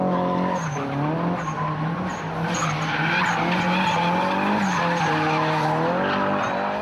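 Drift car sliding sideways around a track, tires squealing continuously over a strained, wavering engine note for several seconds, loud and close as if heard from inside the car.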